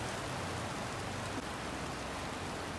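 Steady rain falling outdoors, a dense even hiss of drops holding at moderate level throughout with no talking.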